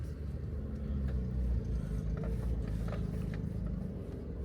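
Three 6x6 off-road vehicles approach along a steep off-road trail, their engines a deep, continuous rumble close by that swells slightly before settling.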